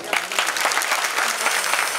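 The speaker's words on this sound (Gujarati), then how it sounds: "મિત્રો જૈમિનના અવાજ ઉપર એની નાચ ઉપર એના ગીત ઉપર મોજ આવી હોય તો તાળી આપજો" A crowd at a bhajan gathering claps for the singer, brisk steady applause filling the moment, with a voice partly audible beneath it.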